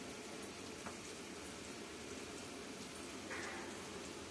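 Lentils for dal bubble steadily in a pot, a soft, even simmering hiss with faint pops that holds constant throughout at low level.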